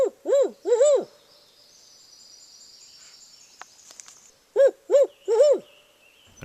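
People imitating owl calls on a spring bird count, with clear hooting screech owl and barred owl calls given in short bursts of two or three. The hoots are close and loud, separated by a quiet pause with faint insect hiss.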